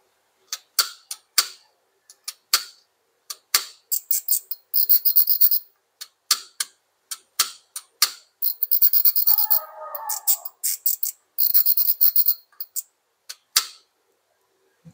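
A Daiwa Caldia 2500 spinning fishing reel is turned by hand, giving crisp close ticking clicks interspersed with short buzzing bursts of rotation, heard alone in a quiet room.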